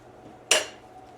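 A spatula strikes and scrapes sticky mascarpone from its container in one sharp clatter, close and brief, fading quickly into quiet kitchen air.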